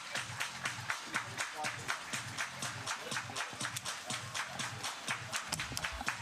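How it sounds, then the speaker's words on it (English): Crowd at a summer-collegiate baseball doubleheader, Swift Current 57s versus Regina Red Sox, clapping hands in a quick, steady rhythmic beat, fairly distant and faint, with a voice talking over it now and then. "Everybody clap your hands."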